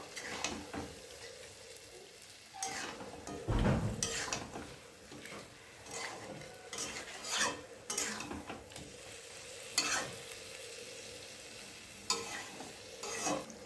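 Meat fries in a pan with chili powder and chicken masala, a soft steady sizzle broken by scraping stirs and occasional clinks of a spoon against the pot, faint and close.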